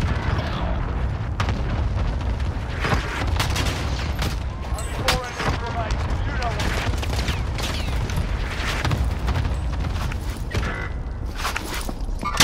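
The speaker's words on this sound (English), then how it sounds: "Cluster strike shots. Away." Cluster strike airstrike explosions in Call of Duty: Modern Warfare, a dense barrage of booms and gunfire-like bursts that rolls on without a break, loud and close, with game noise and footsteps mixed in.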